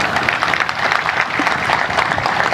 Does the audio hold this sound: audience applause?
yes